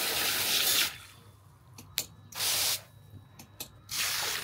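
Short, loud hissing bursts come from a spray jet nozzle as water blasts out in three separate pulses, with a few faint clicks between them and no talking.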